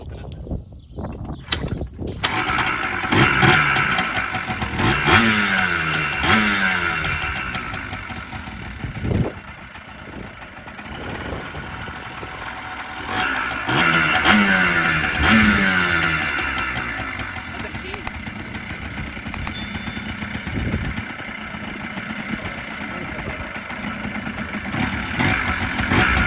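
A Yamaha Blaster ATV being started and brought to idle, with a rough, uneven engine putter that rises and falls, mechanical clatter, and people talking over it nearby.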